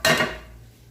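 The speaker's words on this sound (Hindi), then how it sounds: "मैंने इस तड़के को चनों और आलू पे शामिल कर दिया है और इसको मिक्स कर लेंगे" A single metal clink of a spoon against a pot as a tempering is mixed into chickpeas and potatoes for aloo chana bhaji, sharp at first and then fading quickly into quiet.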